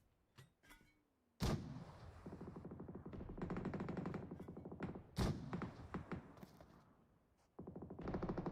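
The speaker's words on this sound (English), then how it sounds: "Trick with those mortars, laying it down." Mortar fire in PUBG Mobile during a North America scrims match, with heavy booming blasts landing in bursts, sharp onsets followed by sustained rumbling and crackle, loud and close, separated by brief quieter gaps.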